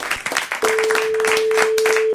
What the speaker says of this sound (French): Merci, on vous applaudit